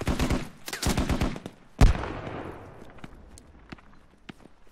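Gunfire in the video game Squad during close urban fighting at Al Basrah: rapid bursts of shots in the first second and a half, then one loud close report with a long fading echo and scattered distant shots.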